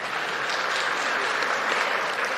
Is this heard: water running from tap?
no